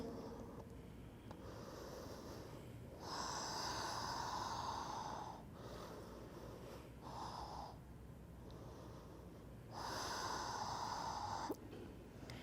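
Slow, deep breaths from someone in a yoga inversion warm-up, breathing into the hips: soft, airy inhales and exhales alternating in long waves, close and quiet, with no talking.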